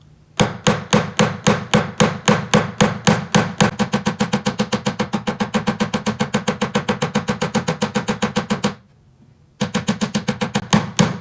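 Rapid, steady hammer blows texturing a wide-band metal ring, dozens of sharp ringing taps in a fast even rhythm, with a brief pause near the end before the tapping resumes.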